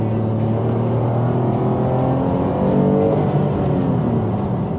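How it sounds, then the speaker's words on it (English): A 2018 Toyota Camry V6 in the sporty XSE trim, its engine giving a steady, low, smooth growl under load that holds an even level throughout, with no voices over it. "It has this very refined growl"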